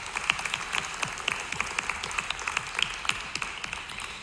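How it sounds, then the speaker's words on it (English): An audience applauds steadily at a motivational talk, a dense, even patter of many hands clapping at moderate loudness throughout, with no one speaking over it. "Yes, big round of applause."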